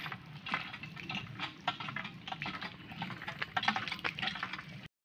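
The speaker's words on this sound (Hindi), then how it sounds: "ओहो ऊपर से आ गया पानी, वो देखो। वो देखो पानी वेस्ट ही हो रहा" Water pours down from above onto plants in a village field, a steady splashing, gurgling flow that stays fairly close and continuous throughout, with no talking.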